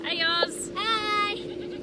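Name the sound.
goats bleating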